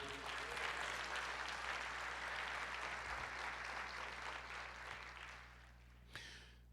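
A church congregation applauds in a steady, dense wash of clapping that holds for several seconds, then thins and fades toward the end, heard at a moderate distance in a reverberant hall.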